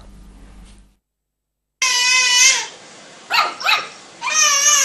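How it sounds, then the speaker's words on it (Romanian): A dog barks back and forth with a babbling baby: the baby's high cooing babble comes first, then a few sharp close barks, then more high-pitched babbling. "nimic nu îl împiedică pe bebelușul din următoarele imagini să se ia la ceartă cu un câine"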